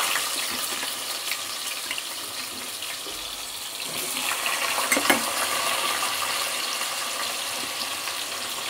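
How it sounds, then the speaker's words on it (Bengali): Chunks of elephant foot yam and potato fry in hot oil in a wok, a loud, continuous hissing sizzle that swells briefly midway and holds steady without speech. "আগে প্রথমে ভেজে নিয়ে এগুলোকে, ওল আর আলুটাকে"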